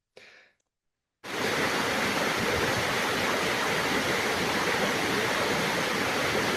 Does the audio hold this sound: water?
yes